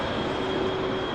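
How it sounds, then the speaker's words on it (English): A Bombardier Challenger business jet at Vancouver International Airport makes a steady, broad engine roar with a faint whine, sustained and fairly loud throughout a very short stretch. "Looks like a bizjet."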